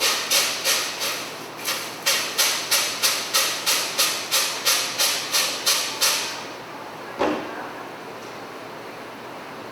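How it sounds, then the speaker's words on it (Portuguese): A spray bottle mists sourdough bread dough in a pot before it goes into the oven, with about fifteen quick, evenly paced sharp spritzes close by, then a single louder knock after a pause. "Aqui eu vou borrifar de novo."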